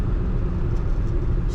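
A 1939 Cadillac Series 75 Imperial Sedan's engine while driving gives off a smooth, steady low rumble with little variation, heard from inside the car with no talking.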